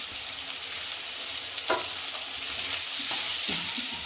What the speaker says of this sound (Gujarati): ડુંગળીને સાતળી લઈશું આપણે ધીમા તાપે